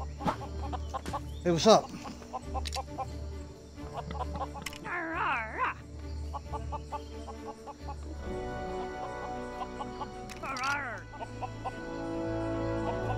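Chickens cluck in the Lego Worlds video game, short bursts among game music and effects, with a person speaking briefly.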